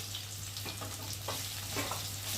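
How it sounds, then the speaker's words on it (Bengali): Onion and garlic fry in a pan, giving a steady, close sizzling hiss with a few soft bursts of spatter and no voices. "পেঁয়াজের সাথে রসুনটা ভাজা ভাজা হয়ে যাবে, নাহলে কাঁচা একটা গন্ধ থাকবে।"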